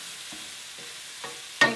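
Vegetables cook with bacon in a pan, a faint steady sizzle with a few soft stirring taps and one sharper scrape at the end.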